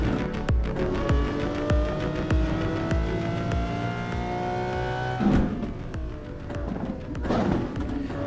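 Engine of a Lamborghini in a driving video game, a steady droning tone with gear changes and shifting pitch, accompanied by repeated thumps and a faint whir throughout.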